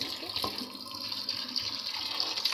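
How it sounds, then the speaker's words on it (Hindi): Potatoes are washed under a running kitchen tap, with a continuous close hiss of flowing water and light splashing, and no voices. "पहले हम आलू को वॉश करेंगे अच्छे तरीके से"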